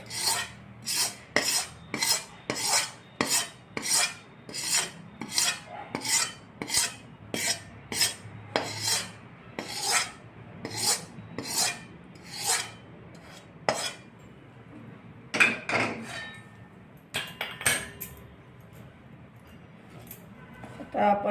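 A slotted spoon scrapes and stirs a ragi flour laddu mixture with jaggery in a pan, with rhythmic, evenly spaced rasping metal strokes repeating steadily up close and a few irregular clinks near the end.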